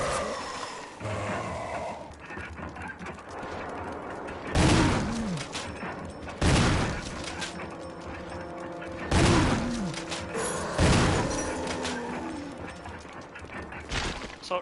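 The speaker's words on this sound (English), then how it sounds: "Assault shotgun for the win! Used 4 shotgun shells and got 6." Assault shotgun in the game Resident Evil Remake, fired four times in loud booming blasts a couple of seconds apart over a tense droning background, with creature groans between the shots.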